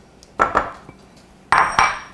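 Butter being stirred into red velvet cake batter in a bowl, with a few distinct spoon-on-bowl clinks and scrapes in two quick bursts, close and fairly loud.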